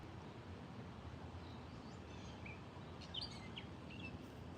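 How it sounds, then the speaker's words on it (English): Faint bird chirps and short calls scattered over a quiet, steady background hum, with no talking. "on nice nights, you hear a lot of birds"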